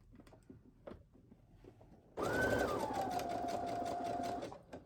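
A sewing machine stitches clear elastic onto fabric, quiet handling sounds giving way to a steady, close whirring run of rapid stitching that lasts a couple of seconds before stopping.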